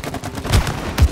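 Gunfire in the It Takes Two video game: a couple of sharp, punchy shots spaced about half a second apart, fairly loud and close over a busy game background, with no talk.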